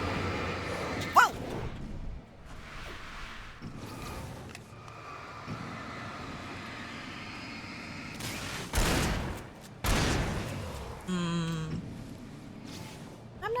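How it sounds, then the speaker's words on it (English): Shotgun blasts in the video game Alan Wake, several loud, booming shots spaced seconds apart over a game soundscape with rumbling and whooshes, with a brief whine after the last blast. "I'm not sure I am liking having to shoot them twice. It is a shotgun"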